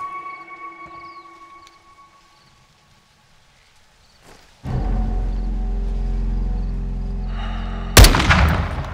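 Combat in a military video game: a long low roar of battle noise swells after a quiet stretch, then a single sharp, loud gunshot cracks near the end.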